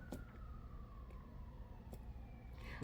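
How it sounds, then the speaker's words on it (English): Faint siren wailing far off in the background, a thin drawn-out tone under quiet ambient noise. "I don't think that there's a day that I'm videotaping that you guys don't hear a siren in the background"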